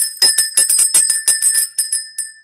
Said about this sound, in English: About to ring the bell.